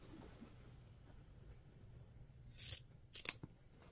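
Scissors snip through quilt fabric as quilt-as-you-go blocks for a mystery quilt are trimmed. Quiet room, then a few short, crisp cuts close by near the end, with no talking.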